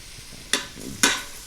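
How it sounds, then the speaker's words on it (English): Flour stirred into melted butter for a roux for au gratin potatoes in a Ninja Foodi: two distinct scraping stirs with a soft sizzle underneath, close and fairly loud, no voices. "once your butter's melted, it's time for 3 tablespoons of flour"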